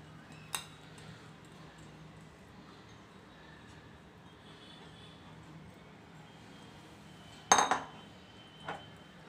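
Soaked porridge wheat tipped into a pot of chicken, heard as a few brief metallic clanks against a quiet background, with the loudest clatter near the end.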